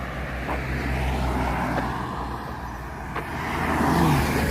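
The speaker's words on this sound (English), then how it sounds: "we're about to get hit by a car right there" A car passing on a road on Pico Island in the Azores, Portugal, a steady close rumble of engine and tire noise that swells slightly toward the end with no talk.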